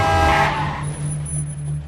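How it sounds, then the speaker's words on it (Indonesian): A car in a film scene nearly hitting someone: a loud burst of engine and skidding tyres with a horn-like tone that quickly fades, leaving a low steady hum. "Saat mendekati anak tersebut, sebuah mobil hampir saja menabraknya."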